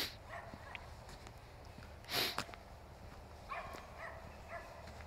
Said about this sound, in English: Hear him barking out there.